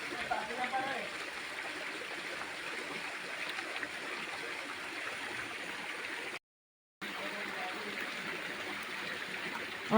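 Constant rushing water of a nearly drained waterfall, a steady broadband roar at moderate level with a brief dropout partway through.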